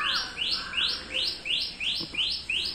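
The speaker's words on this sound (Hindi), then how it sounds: "और बर्ड्स की चर्पिंग यहाँ पे दिन में काफ़ी सुनाई देती है" Small birds chirp outdoors near a home in Dehradun, repeating a bright descending call in a steady run of about seven phrases, fairly close and clear over a quiet background.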